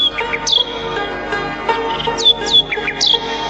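A nightingale sings in short, bright, repeated chirps and whistled phrases that rise and fall over a steady background, with a few louder bursts near the start and end.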